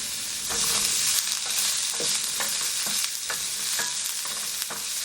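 Chopped green onion sizzles and crackles in an oily pan while being stir-fried for a vegan dish, a loud, continuous hiss broken by scraping stirs of the spatula.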